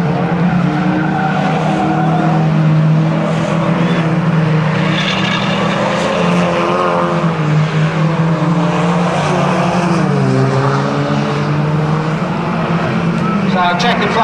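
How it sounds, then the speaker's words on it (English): Banger racing cars at a Buxton oval during an England vs Ireland heat, loud continuous engine roar and revving with skidding tyres throughout, a commentator talking over the noise. "James Sellers going to try and whip his car on"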